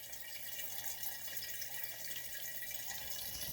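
Water runs through a homemade filter into a jug, a thin continuous trickle with a light, steady hiss, quiet and close, with no talking.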